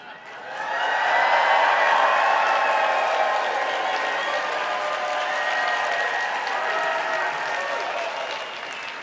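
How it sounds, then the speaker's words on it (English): A seated audience at a talk on making money through the Amazon affiliate program bursts into loud applause with some cheering and whoops, swelling after a quiet second and holding steady before easing slightly toward the end. "Would you guys do me a favor and just act like you're cheering?"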